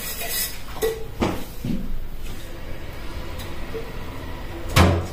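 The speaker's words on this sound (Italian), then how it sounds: "perché siccome che questa pentola è bella zozza, la sto sfregando per questo" A dirty cooking pot is being scrubbed and handled in a home kitchen. Rough scraping and rubbing runs throughout, with a few louder clanks of metal cookware and no talk.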